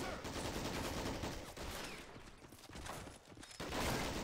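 SMG fire in the real-time strategy game Men of War: Assault Squad: dense, fairly faint rattling bursts overlap in a continuous fusillade, with a brief lull before the shooting picks up again.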